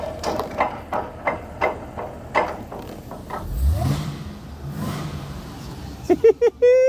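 A supercharged V8 in a Cadillac CTS-V wagon pulls away, its engine note swelling and fading under road rumble, with quick pulsing bursts early on and a voice speaking near the end.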